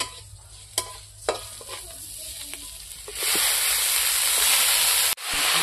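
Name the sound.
boiled banana flower added to pan and stirred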